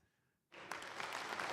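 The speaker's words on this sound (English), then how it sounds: "Very much golf clap." Light, polite applause from a small group, starting abruptly after a brief quiet and continuing steadily at moderate level as a soft patter of hand claps.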